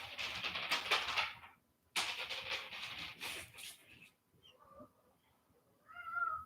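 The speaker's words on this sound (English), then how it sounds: "Freaking cat." A house cat meows close by, a few short calls between bursts of nearby rustling and clatter, with no talk.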